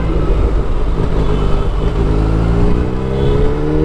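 Kawasaki Versys 1000 BS6 sports-tourer motorcycle engine running loud and close, a steady throaty drone with rising tone toward the end as it revs, with no talking.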